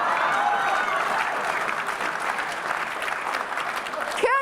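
A church congregation applauds in a steady, dense wash of many hands, fairly close, with a voice briefly heard at the start and again near the end.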